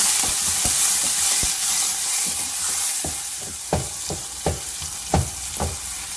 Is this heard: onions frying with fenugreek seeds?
yes